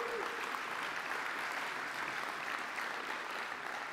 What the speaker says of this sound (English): give them a round of applause for Kwani